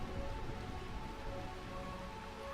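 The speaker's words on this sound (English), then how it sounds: "if it rains here perpetually in Burmecia, why aren't raincoats the standard?" Steady rain falling in Burmecia, a perpetually rainy kingdom in the Final Fantasy 9 video game, a continuous even hiss of drops holding at constant level with no pauses, alone and without any voices.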